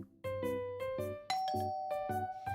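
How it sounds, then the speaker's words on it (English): A doorbell rings in the video game Love Curse, giving several bright chime notes in repeated ding-dong pairs over a soft underlying musical bed, clear and close, with no talking. "Doesn't take long before the doorbell rings."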